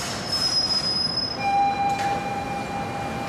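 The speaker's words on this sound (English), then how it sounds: "Patricia Massari catches the M train to downtown Manhattan." A New York subway M train leaving Fresh Pond station in Queens, with steady rail rumble and long high-pitched wheel squeals that rise and shift as the cars move along the track.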